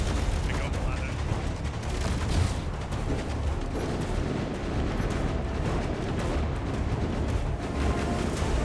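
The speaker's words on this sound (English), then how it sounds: "Oh, we're getting shot up the front." Gunfire rattles against a vehicle in a video game, a dense, continuous barrage of impacts and mechanical clatter that stays loud and unbroken throughout.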